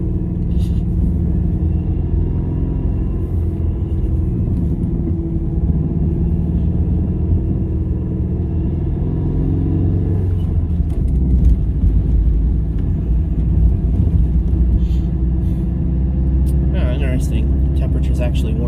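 Car driving over a washboard dirt stretch of Beaver Creek Road in winter, a loud continuous rumble and rattle of tires and cabin, with a person talking over it.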